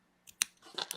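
Scissors snipping through the loose edges of crochet yarn, a few quick crisp cuts close by with no talking.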